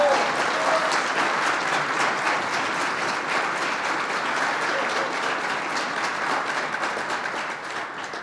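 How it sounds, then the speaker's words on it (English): Vigorous audience applause at a reception for the March for Life, a loud, dense roll of many clapping hands sustained for several seconds and tapering slightly toward the end. "Would you give the Second Lady of the United States another vigorous round of applause?"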